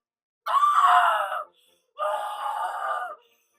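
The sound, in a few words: voice imitating a scream in a read-aloud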